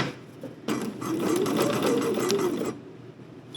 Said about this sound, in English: I'm going to sink my needle, and I'm going to just stitch straight across